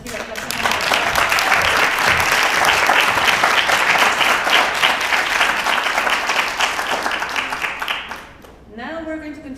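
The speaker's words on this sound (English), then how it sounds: "Let's give a clap." An audience at a competition final breaks into sustained, loud applause that holds steady for several seconds, then fades as a voice begins speaking.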